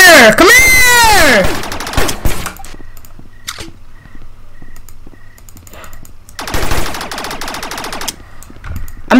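Rapid automatic gunfire rattles in loud bursts in the Rec Room video game, with a long burst at the start, quieter scattered shots in between and another heavy burst later.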